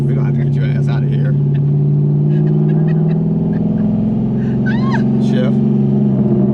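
Cammed Corvette engine idling and revving with a loping, rumbling tone inside the car while someone learns to drive a manual, loud and steady, with people talking over it.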